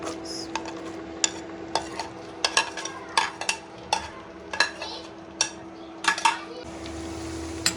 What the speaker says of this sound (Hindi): हमारा हाफ फ्राई हो गया प्याज